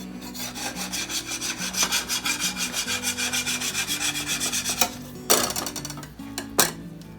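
A knife slices thin strips of meat for jerky in a jerky cutting board, with fast rhythmic sawing strokes close up, then a few louder clunks and scrapes near the end.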